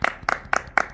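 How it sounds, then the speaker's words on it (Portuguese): Four sharp bursts of hand clapping, evenly spaced about a quarter second apart, close and clear, a short round of applause for someone who gave a gift. "uma salva de palmas para ela!"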